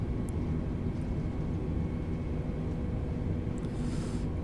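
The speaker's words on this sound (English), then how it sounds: "I feel like the A320 is a little loud there" Airbus A320 engines at takeoff in Microsoft Flight Simulator 2020 make a constant, loud jet roar with a low rumble and a steady high whine, uninterrupted throughout.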